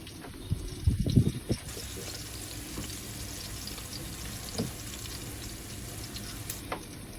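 Food dropped into hot oil aboard a sailboat galley, a few bubbling splashes and crackles early on settling into a steady soft sizzle and fry that continues quietly with occasional pops.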